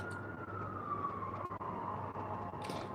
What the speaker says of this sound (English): Hear them sirens?